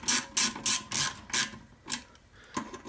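Screws being tightened on an engine valve cover during a valve spring replacement, heard as a series of quick, close ratcheting bursts, about seven in three seconds, with short pauses between them and no talking.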